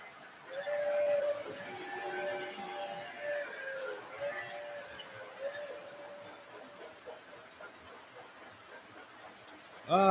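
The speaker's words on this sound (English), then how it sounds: "we'll pick up some speed here with our steam engines" Model steam trains run with a whirring rumble and wavering whistle tones, fairly quiet, ending with a sharp louder burst.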